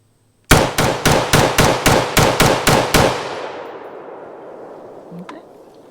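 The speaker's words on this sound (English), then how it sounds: "we'll try it by dropping the bolt on it versus charging" A T91 piston-driven AR-derived rifle fires a rapid string of about ten loud, evenly spaced shots after the bolt drops, each crack ringing out and the echo fading slowly across an outdoor range.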